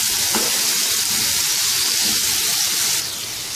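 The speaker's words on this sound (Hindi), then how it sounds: "इसको अब हल्का सा सिर्फ जस्ट फ्राई करना है" Chana dal (split chickpeas) frying in a pan gives a steady, close, loud sizzle with a soft stir near the start, easing slightly toward the end.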